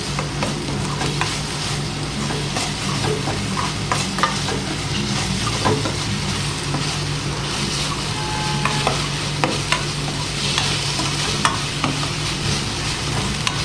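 Mushroom masala gravy for roadside-stall style mushroom fries sizzles steadily in a pan while a spoon stirs it, a continuous close frying crackle with soft scraping and no talking.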